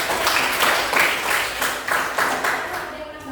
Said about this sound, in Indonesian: Tepuk tangan buat Karisa dan Jihan, luar biasa.